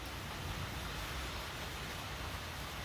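Heavy rain falling in Triunfo, Brazil, a dense, steady hiss of drops that holds evenly loud throughout with no voices.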